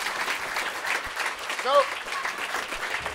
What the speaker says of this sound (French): Donc on peut applaudir Aurélien, et à bientôt